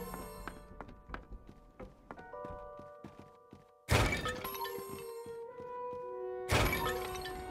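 Item-collect sound effects from the Xbox game A Series of Unfortunate Events: bright chime-like tones over a run of clicking taps, then two loud shimmering bursts, moderately close and without talk.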